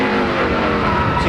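Loud on-board roar of a 2004 NASCAR Nextel Cup stock car driven by Truex, a dense sustained engine drone filling the short moment with steady intensity.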